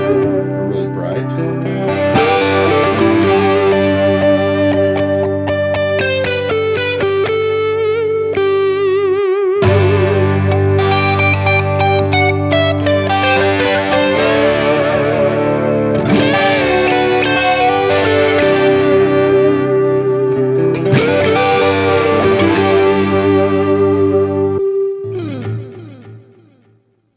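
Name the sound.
guitar through Joyo D-Seed II delay pedal, bright setting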